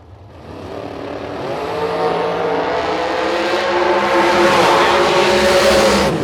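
A drag racing door car engine builds from a low rumble into a loud, steady, roaring drone that holds at full volume, close by, with no talking.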